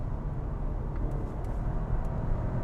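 A BMW G22 420i M Sport with 170 hp, downshifted to third, accelerates as a steady low engine drone heard from inside the cabin, with no one speaking.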